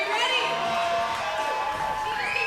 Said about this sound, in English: Getting the crowd hyped up, though.